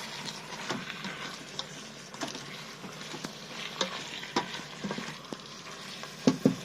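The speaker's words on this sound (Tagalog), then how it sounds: "Nagisa natin siya guys. Sa bawang sibuyas kamatis." Chicken sautéing in a pan with garlic, onion and tomato, a steady sizzle with scattered stirring scrapes and clicks throughout, close and alone with no talk.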